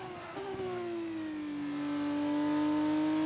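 An F2 race car in a racing video game drones at a steady high pitch as the engine note slowly falls and then holds, smooth and continuous with no speech.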